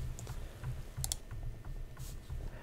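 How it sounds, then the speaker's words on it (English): Rapid clacking keystrokes from a mechanical keyboard, steady and close, with a couple of louder key hits. "I need a non-mechanical keyboard for videos, I think."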